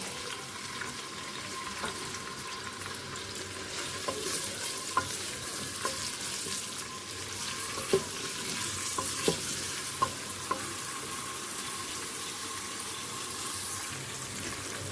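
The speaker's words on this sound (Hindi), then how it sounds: "अब 2 मीडियम साइज़ के प्याज लिए हैं और ये इसमें डाल के इनको हल्का सा सौते कर दूँगी।" Onions sautéing in ghee in a pan for mutton karahi, giving a steady soft sizzle with occasional stirring clicks and scrapes, close and fairly quiet, with no talking.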